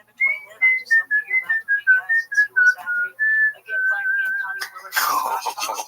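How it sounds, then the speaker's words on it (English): A person whistles a slow, haunting melody of sustained, gliding notes, clear and close, ending with a brief burst of noise. "It's haunting. It's a haunting whistle."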